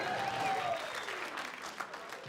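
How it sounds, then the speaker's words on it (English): An audience at a comedy show claps in a full round of applause, dense and even across the whole stretch, fairly distant, with a brief trace of a voice near the start. "Let's just get a round of applause."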